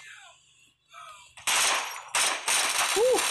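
Automatic gunfire in the multiplayer shooter game Bullet Force: a soft voice first, then loud, rapid bursts of shots in two or three close volleys.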